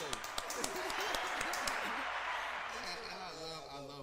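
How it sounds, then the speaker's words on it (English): An audience at a birthday show claps and cheers, a dense burst of applause that swells and then slowly fades, with a voice speaking over the tail end. "can we get another round of applause?"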